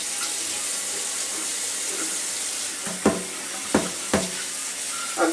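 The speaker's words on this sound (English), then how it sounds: "I'll add more hot water." Water pours steadily from a tap in a continuous rushing stream, with a few sharp clinks and knocks near the end.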